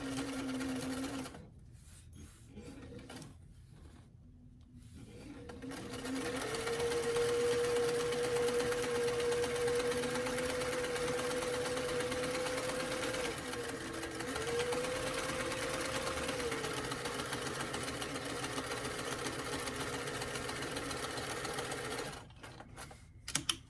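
A sewing machine runs steadily for about fifteen seconds, stitching the side seam of a doll dress with a zipper. A few seconds of near silence come before it, and it stops at the end with small clicks.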